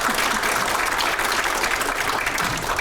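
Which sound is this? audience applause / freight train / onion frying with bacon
audience applause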